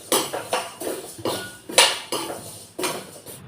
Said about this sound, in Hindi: तो यहाँ पर देखिए मैं अपने मसालों को भून ले रही हूँ।